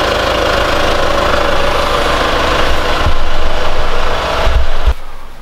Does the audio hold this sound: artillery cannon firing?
no